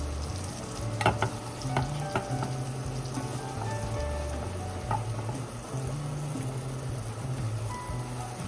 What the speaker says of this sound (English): coat the sliced mushrooms in the Cajun seasoning and add to the pan